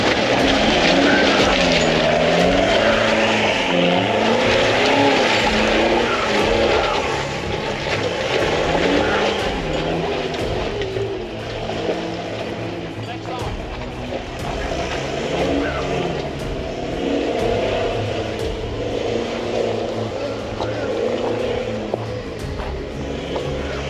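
A car accelerating and shifting around a race track in the rain, its engine rising and falling through the gears, loud and close with wet road hiss and wind noise throughout.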